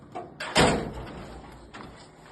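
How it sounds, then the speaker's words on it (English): An HP PageWide XL4000 large-format printer door swings shut with one firm thud near the middle, preceded by a couple of lighter knocks and followed by faint mechanical rattles. "Close the door."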